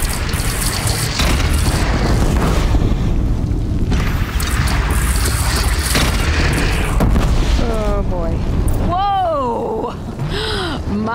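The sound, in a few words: bridge brought down by explosion, Horizon Zero Dawn video game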